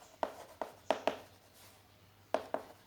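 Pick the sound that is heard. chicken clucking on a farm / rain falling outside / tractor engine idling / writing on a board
writing on a board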